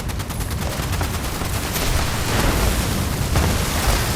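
Rapid gunfire from Gauss weapons in the video game Fallout 76 rattles on continuously, a dense fusillade of overlapping shots at steady loudness with no talking.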